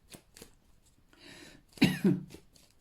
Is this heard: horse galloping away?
no